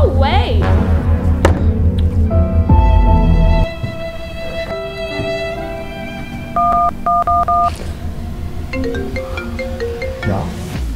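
A telephone keypad sends a run of short dialing beeps, first in quick succession and then in paired steady tones, with voices and other electronic tones alongside.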